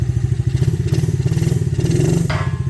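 A SyxMoto ATV or dirt bike engine runs just after a choke start, a close, loud, rapid putter with a faint clatter, running alone without voices.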